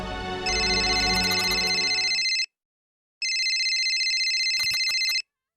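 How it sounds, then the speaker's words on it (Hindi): A mobile phone ringtone plays loudly in two long bursts separated by a short pause, its bright electronic tones repeating steadily. "पैम का फोन, 21 मिस कॉल।"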